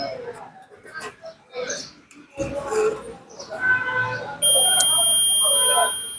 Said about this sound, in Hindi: देखिए यहाँ पे मल्टीमीटर से बीप साउंड आ रहा है